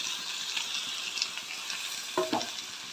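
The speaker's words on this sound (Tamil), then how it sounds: "எல்லாமே நல்லா வதங்கி சுருண்டு வரட்டும். அது வரைக்கும் வதக்கலாம்." Tomatoes and masala sautéing in oil for chicken curry, a steady close sizzle with a few clicks and scrapes of a spoon stirring the pan, with no talking.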